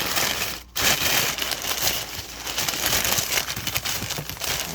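Packing paper crumpled and crushed by hand while a shipping box is unpacked, a dense, continuous crinkling rustle close by with brief pauses and scattered sharper crackles.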